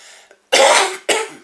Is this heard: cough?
yes